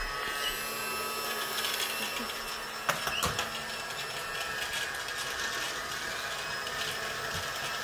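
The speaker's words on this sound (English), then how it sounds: "Get them both vacuuming at the same time." Two Casdon toy vacuum cleaners run together, a steady whirring motor drone with a faint mechanical rattle and a brief clunk partway through, close and continuous with no talking.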